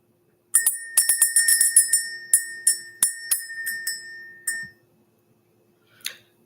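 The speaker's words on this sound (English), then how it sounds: "Let's go ahead and ring the bell." A hand bell rung in a spiritual energy-clearing session, struck in a quick series of bright, ringing strikes that slow and fade, then one last faint ring after a pause, clear and close.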